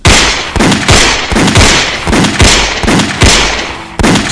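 Rapid gunshots fired one after another as a sound effect in a Tagalog audio drama, about eight loud close bangs in a quick, fairly even rhythm, each with a short ringing tail, with no voices.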